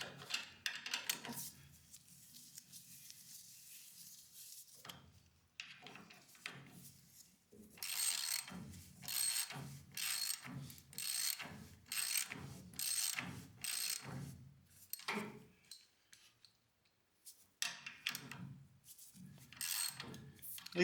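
Ratchet driving long screws on a Volkswagen barn-find repair, steady bursts of fast clicking pawl strokes repeated over and over, fairly quiet and close with brief pauses between sets.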